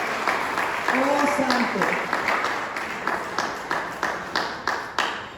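A church congregation at a Spanish-language worship service applauds steadily, many hands clapping in a dense, moderately loud wash with regular accented beats, while a voice sings or calls out over it.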